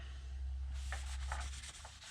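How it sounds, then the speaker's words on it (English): A rag dampened with brake cleaner is wiped across a clutch plate during a Valair double-disc clutch install on a 5.9 Cummins, giving a few short scrubbing strokes over a steady low hum. "We'll take our rag, put a little brake clean on it."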